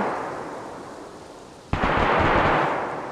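A single loud, close gunshot in DayZ cracks out mid-clip over steady background noise, followed by a sustained roar of echo and rumble.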